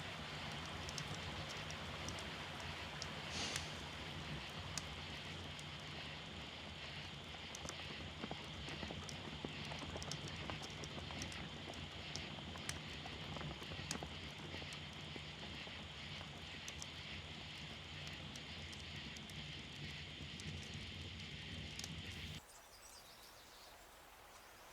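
Horses' hooves clip-clop steadily in a Western film scene, a dense run of hoof beats over soft outdoor ambience with faint wind and birds, continuing for over twenty seconds before cutting off.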